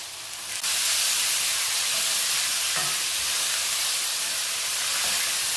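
Chopped tomatoes sizzle and hiss steadily in a hot pan of okra masala, with a few faint scrapes of stirring over a constant loud fry and no talking.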